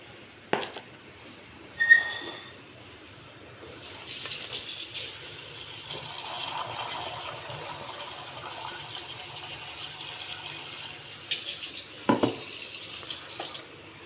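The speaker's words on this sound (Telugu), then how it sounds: "ఈ గింజలు శుభ్రంగా నీళ్ళు పోసి కడగాలండి" Small hard pomegranate seeds clatter into a vessel, then running water pours and swishes steadily for several seconds, with a brief louder splash near the end.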